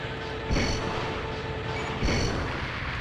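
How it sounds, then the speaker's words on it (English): Laser tank weapon firing in a video game: two booming shots about a second and a half apart, each a sharp burst with a brief ringing tail over a steady low background rumble. "I'm shooting some lasers now"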